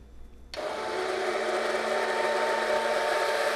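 A blender starts up suddenly after a brief quiet moment and then whirs at a steady, loud pitch, emulsifying chickpeas with lemon juice close by.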